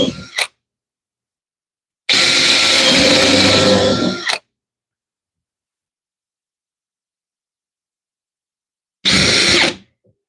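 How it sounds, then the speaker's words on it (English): A power drill whines loudly in two separate bursts into a firepit bench, a short one near the start and a longer one later, with silence between. "make sure I'm not drilling the bench"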